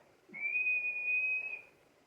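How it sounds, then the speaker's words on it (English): A teacher blows a whistle in one clear, steady, shrill blast lasting just over a second, loud and alone against a quiet background. "At last the teacher blew her whistle."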